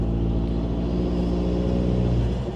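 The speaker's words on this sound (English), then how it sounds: "Now, if I get on the gas just slightly," Hybrid 2025 Toyota Tacoma fitted with a cold air intake, heard from inside while accelerating gently: a steady low engine rumble with a faint rising drone, fairly loud and continuous.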